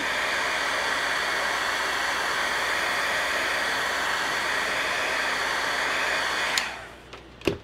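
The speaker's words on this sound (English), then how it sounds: "So I'm going to hit this with my heat tool to dry it." A heat tool blowing steadily to dry a small watercolor painting on a holiday card, a loud continuous whooshing roar close by that switches off near the end, followed by a few faint clicks.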